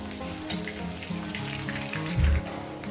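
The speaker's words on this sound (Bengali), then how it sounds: "আলুটা আগে দু মিনিট ভেজে নেবো" Potato pieces frying in a pan for a cauliflower, potato and poppy-seed dish, a steady close sizzle with a few stirring scrapes and a louder clatter near the end.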